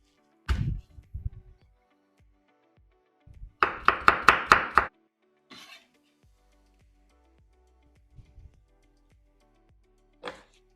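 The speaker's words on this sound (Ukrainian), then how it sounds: "дрібно нарізаю часник" A fast, tight burst of knife taps on a cutting board finely chopping garlic, preceded and followed by a few isolated knocks and clatters, close up.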